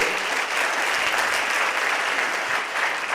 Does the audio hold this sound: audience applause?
yes